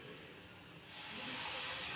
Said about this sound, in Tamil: இது நல்லா சுரீர்னு சத்தம் கேட்கணும்.